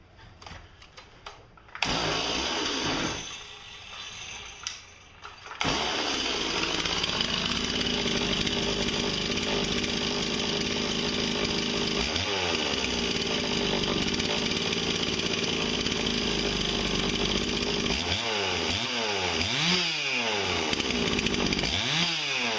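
A Stihl MS260 chainsaw, run on its first tank of fuel after a top-end repair, is pulled over a few times, catches and then idles loudly and steadily up close, with brief wavering pitch swings later on.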